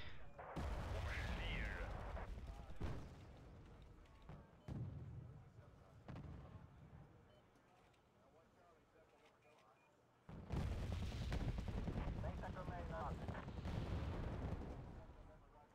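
Artillery and gunfire in the Wargame: Red Dragon video game: loud, dense booms and rumbling fire recur in bursts, dip into a quieter stretch, then return heavily, with a voice speaking over parts of it.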